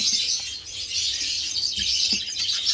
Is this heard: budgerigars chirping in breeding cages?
yes